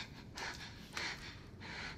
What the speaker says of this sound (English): What are you doing this heavy breathing for?